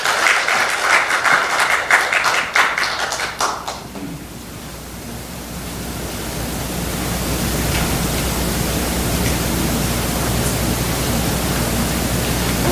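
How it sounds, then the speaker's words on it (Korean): A church congregation applauds to welcome a missionary, dense clapping for about four seconds that then gives way to a steady, hissing wash of noise for the rest. "우리 먼저 박수로 환영해 주시면 감사하겠습니다"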